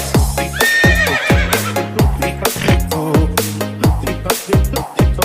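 Steady clip-clopping of a delman horse cart's hooves in a brisk, even rhythm, up close and loud, mixed with bright jingling and music-like tones throughout.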